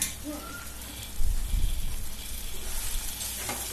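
Fried elephant yam pieces sizzle in a pan of masala while being stirred, a steady crackling hiss with a few scraping stir thumps, heard close up.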